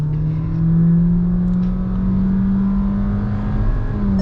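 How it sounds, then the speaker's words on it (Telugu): Volkswagen Taigun 4-cylinder petrol engine revving hard from inside the car, a steady loud drone with rising pitch held throughout, no talking. "ఒకలాంటి ఆ ఫాస్ట్ అండ్ ఫ్యూరియస్ వైబ్స్ వస్తున్నాయి కదా ఆ 4 సిలిండర్ పెట్రోల్ రేవ్ అవుతుంటే"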